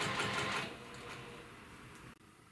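A sewing machine stitches a straight seam, its rapid mechanical whir close and fairly quiet, easing slightly after the first half second and cutting off briefly near the end, with no talk.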